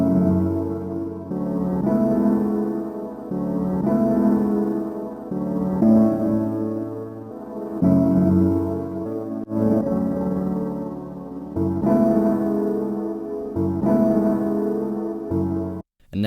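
A gritty, lo-fi piano loop processed with RC20 crunch and digital crush repeats mellow chords with a crunchy, slightly degraded tone, playing on its own and cutting off abruptly at the end.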